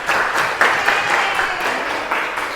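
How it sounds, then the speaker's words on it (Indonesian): Applause from a classroom audience for a student, steady broadband clapping with a few louder bursts, fairly close and continuous throughout. "Beri tepuk tangan untuk Ananda"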